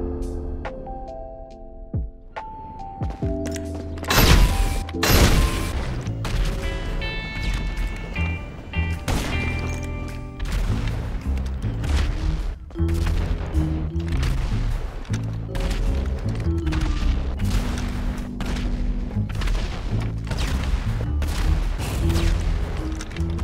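A run of explosions and gunfire from the video game GTA Online, dense with booms, crashes and sharp shots over a layer of game music, loud and nearly continuous throughout.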